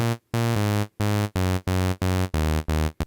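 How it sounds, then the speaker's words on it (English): A buzzy sawtooth synth bass from Vital in FL Studio plays a line of sustained, bright notes that step downward in pitch, loud and up front with short gaps between them. "I'm using this MIDI pattern for the bass line in this project."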